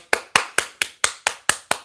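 A short run of eight sharp, evenly spaced claps, crisp and close, with no voices.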